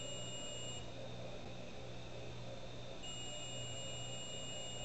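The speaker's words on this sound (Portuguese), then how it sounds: "Não parou de bipar?" Dell VF0MH motherboard on the repair bench giving off a continuous electronic beep tone, a steady high-pitched whine that persists throughout with no pause.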